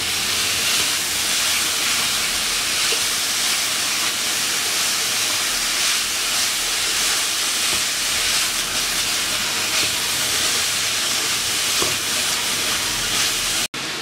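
Vegetables and chicken frying in a pan, a loud, dense and steady hiss of sizzling oil that runs without a break, close and alone.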